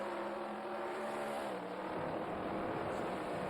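A sprint car engine roaring at high revs in the World of Outlaws: Sprint Cars 2002 racing game, with a continuous loud droning whine that shifts pitch slightly as the throttle eases, and no talking.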